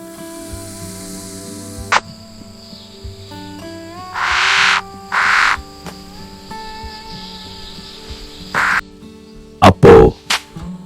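Cartoon crow cawing in a Tamil fairy-tale animation, several loud harsh bursts spaced out over a musical background, the last two caws coming in quick succession near the end.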